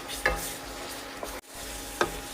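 Ground raw papaya is sautéed in ghee for a papaya payasam. A few distinct stirring scrapes sound over a soft, continuous sizzle, and a brief pause comes midway.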